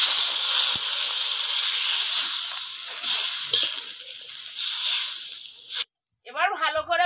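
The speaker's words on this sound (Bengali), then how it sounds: "কষিয়ে নিয়েছি, এবার জল দিয়ে দেবো।" Water poured into a pan of sautéed okra (bhindi) sets off a loud, steady hiss and sizzle lasting several seconds, then cuts off abruptly before a brief voice speaks.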